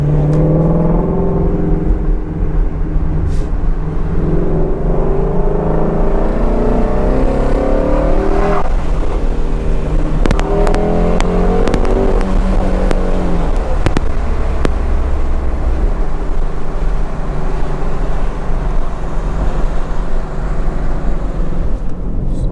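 A Ford Mustang GT350 with its exhaust resonator deleted drones steadily from inside the cabin with the windows up, its engine tone climbing and falling as it accelerates between about 2,500 and 4,000 RPM, loud and continuous.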